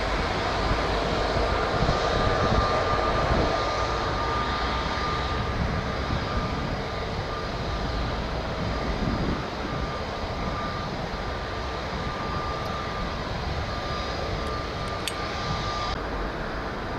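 An aircraft at Lisbon Airport gives a steady, continuous engine roar that holds at an even loudness throughout, with no voices over it.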